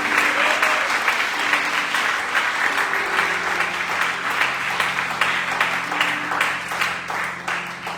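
A church congregation applauds steadily and loudly for the whole stretch, a dense wash of many hands clapping together with a faint murmur of voices underneath.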